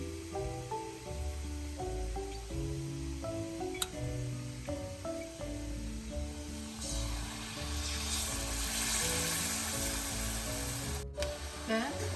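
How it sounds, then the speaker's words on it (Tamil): Susiyam, sweet green gram dumplings, deep-frying in oil. A hissing sizzle swells in the second half beneath prominent background music, with no talk. "ஒவ்வொன்றா போட்டு கலந்து கலந்து பொரிச்சு எடுப்போம்."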